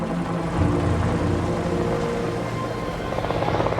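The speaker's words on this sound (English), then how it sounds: "But then another helicopter appeared, the UH-34D." A UH-34D helicopter engine drones steadily with deep rotor thumping, loud and continuous, with a faint rhythmic chop building near the end.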